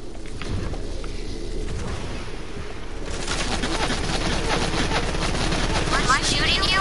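Sustained automatic gunfire from a PS4 video game, a dense stream of rapid shots that grows louder after the first few seconds, with players chatting over it.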